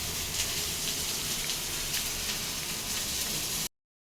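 Salted fish frying in a hot pan, a steady, dense sizzle that holds at an even level for over three seconds before cutting off abruptly, with no voices.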